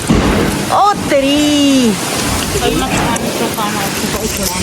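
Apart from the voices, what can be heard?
rain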